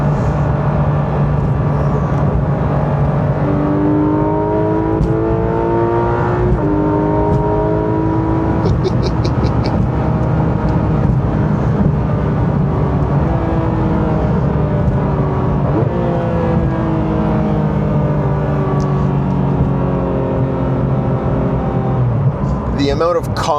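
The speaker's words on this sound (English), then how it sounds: "Step on the brake with your left foot, smash the throttle." A Porsche 911 GT3 RS launches at full throttle, the engine climbing through several rising pitch sweeps as gears change, loud and close from inside the car with someone talking over it.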